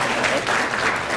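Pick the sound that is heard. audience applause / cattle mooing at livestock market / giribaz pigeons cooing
audience applause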